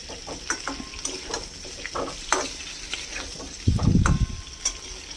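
Potato pieces fry in a pan for an aloo dum, with stirring clinks and scrapes throughout and a louder burst of sizzling near the end, close and fairly quiet.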